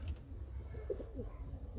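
Pigeons in a loft give soft, low coos, faint and somewhat distant over a steady background hum, in a short burst.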